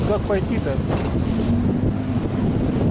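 Strong wind gusting across a sandy shore during fishing, a steady loud roar buffeting the microphone, with someone talking briefly over it.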